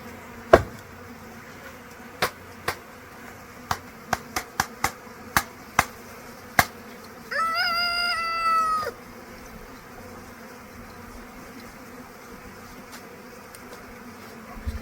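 Honey bees at a homestead hive give one close buzzing pass of about a second and a half midway, set among scattered sharp ticks and a quiet background.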